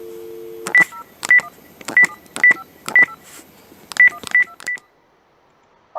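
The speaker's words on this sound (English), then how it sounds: "Yes, he's dialing." A short dial tone, then a quick series of telephone keypad beeps, about nine tones in uneven bursts, clear and close, ending in silence.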